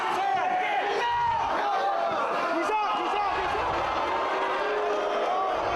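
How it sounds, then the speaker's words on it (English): A large wrestling crowd at an ROH world title match between Bryan Danielson and Nigel McGuinness roars steadily throughout, a dense, sustained wash of voices with no single voice standing out. "the crowd voicing their displeasure"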